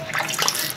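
Water poured over freshly cut sweet potato vine cuttings, a brief close splashing trickle lasting under a second.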